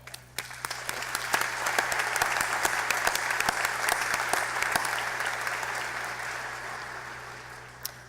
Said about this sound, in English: I'd like to encourage us all to applaud with these students.